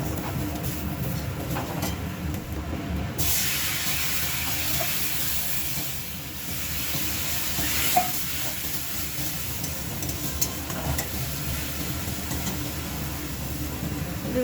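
Chili, cumin, coriander and other spices sauté in a pan for chicken momo filling, giving a steady broadband hiss that swells after the first few seconds and holds evenly, with no talking.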